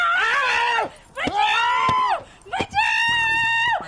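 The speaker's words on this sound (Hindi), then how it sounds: "चिल्ला क्यों रही है?" A woman screams in a Hindi comedy film scene from De Dana Dan, three long, loud, piercing cries separated by brief pauses, close up, with a faint clatter under the last one.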